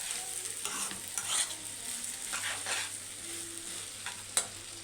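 Vermicelli browns in oil in a pot for Egyptian koshari, a soft steady sizzle under repeated scraping stirs of a spoon, with one sharp knock of the utensil against the pot near the end.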